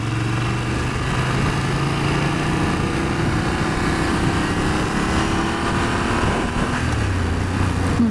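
A BMW F750GS motorcycle engine idles and revs continuously close by, a steady, droning, buzzy exhaust note holding throughout with a slight pitch drop near the end.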